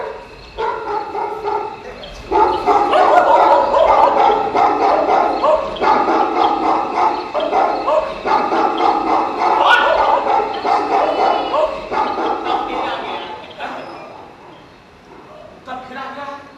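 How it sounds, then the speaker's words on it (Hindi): A dog barks and yelps repeatedly in loud, close bursts with brief pauses between them, fading near the end. "क्या साधु बाबू, कुत्ते का भौंकना आपको बहुत नापसंद है क्या?"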